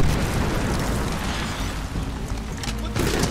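A grenade blast in the shooter game Medal of Honor Warfighter: a loud, sustained roar of explosion noise filling the whole clip, with a fresh burst near the end.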